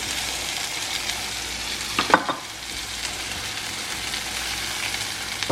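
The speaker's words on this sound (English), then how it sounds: "Just mix the ingredients through." Freshly picked garden vegetables and eggs are stirred through in a hot pan, a continuous close sizzle with a brief burst of spatula scraping partway through; nobody speaks.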